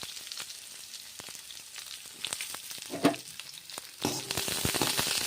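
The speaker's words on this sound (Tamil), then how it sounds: "இப்போ வெங்காயத்தை போட்டு நல்லா வதக்கிடலாம்." Onions for poori masala sauté in a hot pan, giving a steady close-up sizzle and crackle with scattered sharp spits and a brief stir-like clatter, heard without talk.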